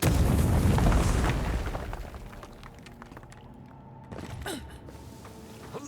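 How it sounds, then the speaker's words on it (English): Grenade blast in the fantasy game Avowed: a loud, deep boom at the start rumbles and fades over about two seconds, followed by quieter debris rattles and a small pop, with no talking. "then throw a grenade"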